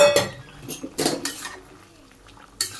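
A spoon scrapes and clanks against a pot while cauliflower and soybean curry is stirred, giving a few sharp metallic bursts separated by quiet gaps, close and alone.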